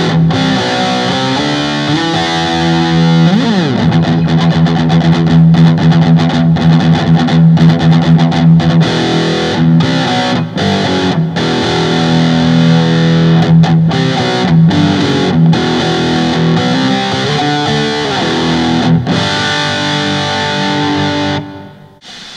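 Electric guitar through a Caline Killer Shark boost pedal playing chords and riffs, loud and sustained with a gritty boosted tone, steady throughout before cutting off at the end.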